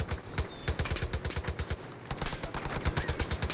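Aircraft strafing with rapid automatic gunfire in the Far Cry 5 video game, a dense run of sharp, evenly spaced shots that keeps going almost without pause, loud and close.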